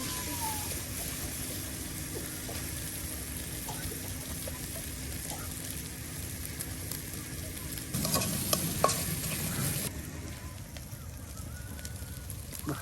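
Onion, ginger, mustard, cumin and garlic paste frying in oil in a village kitchen, a steady close sizzle with stirring and scraping that grows briefly louder near the end, with faint birds in the background.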